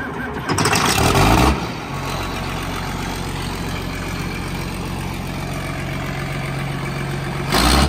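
A roughly 210-horsepower farm tractor engine starts with a loud surge, then settles into a steady, deep, rumbling idle up close before revving again at the end.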